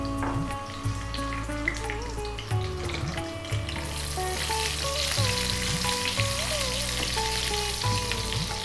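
Cumin seeds, fresh red chili and fresh curry leaves crackling in hot coconut oil, a constant frying sizzle under a continuous tonal music bed, with no talking.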